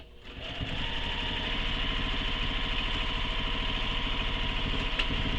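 Sewing machine running steadily as it stitches a line on a commuter tote bag, a continuous close mechanical whir with rapid needle rhythm, rising after a brief start and holding level throughout without any talk.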